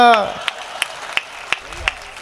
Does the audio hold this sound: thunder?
no